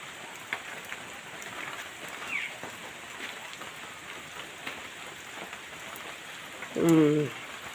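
Steady rain falling in a rural village during rice-sowing season, a soft, even patter with scattered drops, and a brief voice-like sound near the end.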